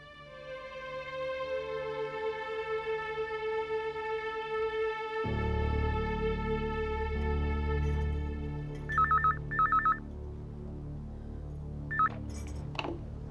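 A telephone being dialed to place a call: a sustained dial-tone hum gives way to short tonal beeps of key presses near the end, under quiet background music, no speech.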